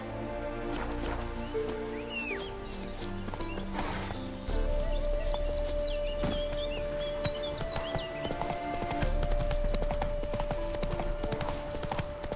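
Roach, Geralt's horse in The Witcher 3, gallops with steady rhythmic hoofbeats close and clear over a continuous game music backdrop, with no talking.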